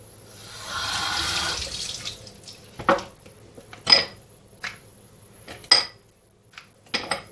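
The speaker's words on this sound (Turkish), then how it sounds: "O zaman altına biraz daha su dökelim." Water poured into a glass while making strawberry milk at home, a soft splashing pour at the start followed by several sharp clinks and taps of glass and utensils.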